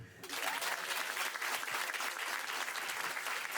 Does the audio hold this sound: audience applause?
yes